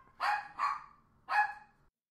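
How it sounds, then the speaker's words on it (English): Dogs playing let out three short, sharp barks close by, two in quick succession and then a single one after a brief pause. "I got three dogs wanting to play with a dog that doesn't want to do anything."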